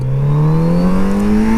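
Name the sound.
Kawasaki Z900RS motorcycle accelerating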